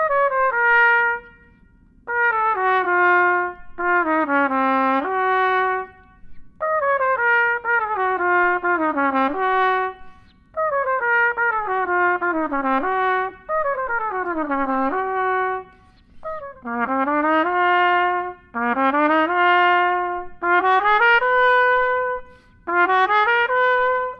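Trumpet rehearsing a fast lick of octuplet and 10-tuplet runs from the Prelude et Ballad audition piece, played alone in short bursts of rapid tumbling notes separated by brief pauses, close and loud.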